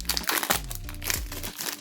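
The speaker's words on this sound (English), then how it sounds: "I think I'm getting better at opening the cards" Crinkly foil wrapper of a Pokémon trading card pack being torn open and handled, a close, loud continuous crackle lasting under two seconds.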